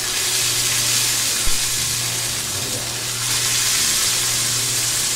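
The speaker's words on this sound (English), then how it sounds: "Yes, the sizzle." Steady sizzle of a hot pan heating before filet mignon is seared, a dense hiss filling the whole stretch with a low hum beneath and one brief clunk near the middle.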